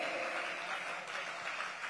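An audience applauds at an Independence Day poetry gathering, a soft, steady patter of many hands heard from a distance with no talk over it.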